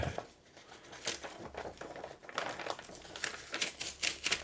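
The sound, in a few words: tape being opened to reattach a comic book cover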